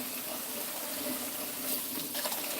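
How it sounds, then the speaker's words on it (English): Tap water running steadily into a kitchen sink while preparing juice, a soft continuous splashing hiss at close range with no talking. "I will let that water roll."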